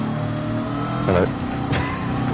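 A Camaro race car's engine revs hard during TransAm series practice, heard from on board with loud harmonic engine tone that rises and falls as the driver works through gears, with a voice speaking over it.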